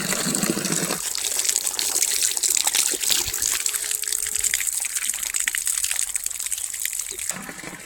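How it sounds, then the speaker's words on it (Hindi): Water gushing steadily from a borewell pipe near farm fields, a loud, close, continuous splashing rush that thins briefly toward the end. "बोरवेल जिसमें पानी गिरता है"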